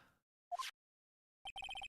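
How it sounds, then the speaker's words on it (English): A phone ringtone in the Ace Attorney video game: a short electronic chirp, a pause, then a quick run of rapid beeping pulses, clear and isolated. "What is this stupid sounding ringtone?"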